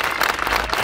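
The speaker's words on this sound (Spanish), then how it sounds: "A ver, el aplauso." A crowd of football fans in Lanús claps together in a brief, loud burst of applause for the national team, dense and continuous for under a second.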